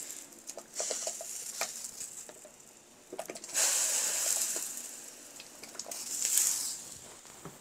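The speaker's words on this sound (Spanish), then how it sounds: "como el agua ya está hirviendo, las voy a poner aquí las papas" Potatoes slipped into a pot of boiling water with soft splashes and bubbling gurgles, brief knocks and two louder bursts of sizzling water, close by and without talk.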